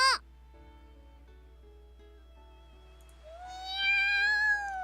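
A black cat meows in a visual novel video game, a single rising, drawn-out cry near the end, heard over quiet background music after a brief chime at the start.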